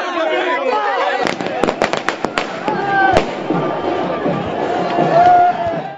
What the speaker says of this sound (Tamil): அங்கும் இனிப்பு வழங்கி பட்டாசுகளை வெடித்தனர்.